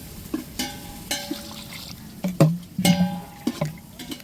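A large pot of basmati rice biryani, about two kilograms, being stirred: irregular scraping and knocking of a ladle against the pot, with faint sizzling and wet shifting of rice between strokes.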